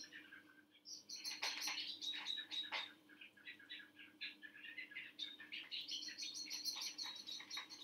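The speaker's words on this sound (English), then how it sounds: "Can you hear the conflict of these birds?" Several birds chirp and squabble close by in a lively, overlapping flurry of sharp tweets and squawks, quiet overall with no voices.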